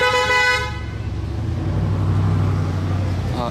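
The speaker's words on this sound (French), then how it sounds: "ça klaxonne là. Pourquoi il klaxonne comme ça?" A car horn honks on a road where exotic cars like a Ferrari Monza SP2, 812 Competizione and an RS6 are passing. It gives one loud, steady blast that cuts off, then a deep engine rumble and traffic noise continue.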